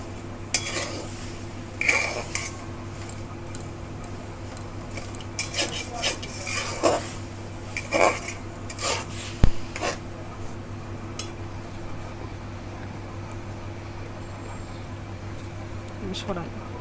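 Raw mango and sugar are stirred together in a pot, with scattered spoon scrapes and clinks over a steady background hum while someone talks.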